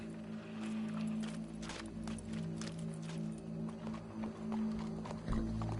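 A horse's hooves clip-clop in the western video game Red Dead Redemption 2, irregular mid-distance thuds over a low, steady hum, with faint game sounds around them.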